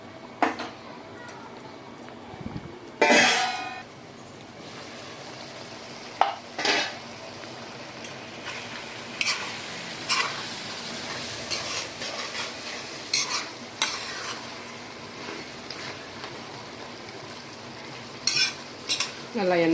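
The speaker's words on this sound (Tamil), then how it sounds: "வச்சுட்டு கொஞ்சம் நல்லா எண்ணெய் தெரிஞ்சு வர வரைக்கும் நல்லா கொதிக்கட்டும்." Peerkangai kootu gravy bubbling in a pan, with a spoon stirring and scraping against the metal in repeated bursts over a soft simmering background and occasional clinks.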